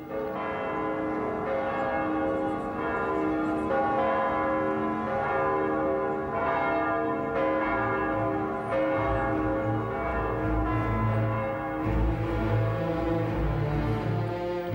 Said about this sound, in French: Les cloches des innombrables églises de Moscou retentissent pour fêter le nouveau tsar.